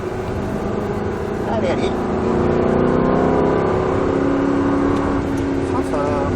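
An Aston Martin V8 Vantage on a racing circuit accelerates hard, its engine note climbing in a loud, close, steady roar, while a coach's voice calls out urgently over it.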